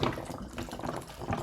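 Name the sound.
water swirling in a spinning bottle, tornado in a bottle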